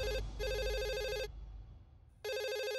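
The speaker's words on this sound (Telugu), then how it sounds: "ఏయ్ ఫోన్ రింగ్ అవుతుందిగా" A telephone bell rings in two loud, rapid trilling bursts separated by a short pause, clear and close.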